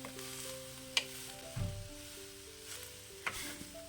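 Broccoli is tossed and mixed in a pan, giving a soft sizzle with a few sharp spoon clinks. Faint, sustained tones play in the background.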